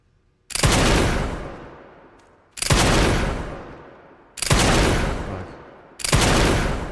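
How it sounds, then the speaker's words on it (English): Four loud, heavy gunshots in a video game, evenly spaced about two seconds apart, each booming and then fading slowly into the next. "shoot through the fucking thing already"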